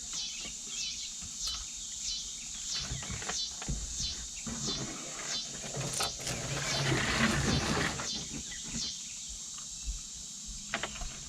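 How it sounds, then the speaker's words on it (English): Cicadas buzz in a rhythmic pulsing chorus near a backyard tomato garden, a repeated high-pitched trill that swells and fades in regular waves, with a burst of rustling in the middle and a few faint clicks. "Cicadas."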